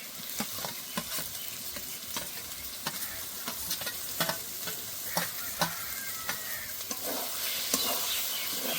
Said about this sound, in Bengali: এবার মাংসগুলো দিয়ে দেবো।